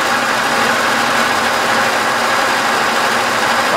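An end mill on a milling machine cuts a groove into a tractor axle drive hub, creating a loud, continuous grinding hiss over a steady motor hum with no pauses.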